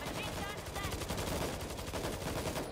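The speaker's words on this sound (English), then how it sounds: "Sniper rifle now." Rapid gunfire from World War Z, a dense, steady barrage of shots filling the whole clip at moderate loudness, with no distinct single sniper cracks.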